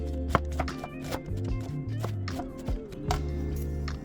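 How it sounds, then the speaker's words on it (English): Green cabbage shredded thin with a knife on a board: a quick run of light, crisp taps and cuts, fairly close, over a steady tonal background hum. "Start with shredding your green cabbage. Using your knife, make sure you cut it nice and thin."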